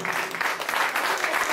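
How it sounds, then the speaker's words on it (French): A concert audience gives sustained, dense applause for the performers at a tribute show, steady and fairly loud with a faint voice underneath. "J'aimerais qu'on les applaudisse très fort"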